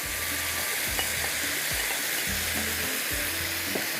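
Chicken with green onion and capsicum fries in a pan, a loud, constant close sizzle with faint stirring scrapes running through the whole stretch.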